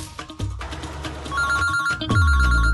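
A phone rings on and on without being answered, a loud, close electronic ringtone repeating in bursts for the whole stretch.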